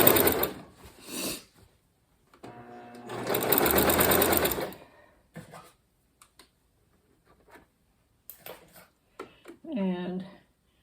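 A sewing machine joins baby quilt squares in two short, fast runs close by, then goes quiet apart from a few clicks, and a voice speaks briefly at the end.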